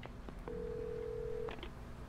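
A telephone in the video game Alan Wake gives a faint single steady tone lasting about a second, with brief dialing blips around it over low background hum.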